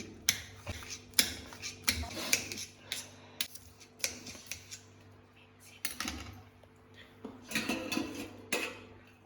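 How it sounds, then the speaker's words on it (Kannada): Knife chopping green chillies on a cutting board while making onion bajji, a series of sharp irregular taps and clicks close by, some in quick bursts, over a steady low background hum. "ಸೊ ಈಗ ನಾವು ಮೆಣಸಿನ್ಕಾಯಿ ಫಸ್ಟ್ ಕಟ್ ಮಾಡ್ತಾ ಇದ್ದೀವಿ"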